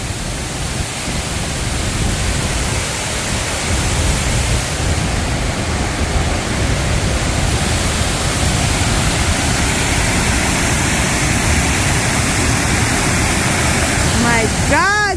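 A waterfall in Framingham, Massachusetts, pours with a loud, steady, unbroken roar of rushing water heard close up, a broad wash of noise throughout.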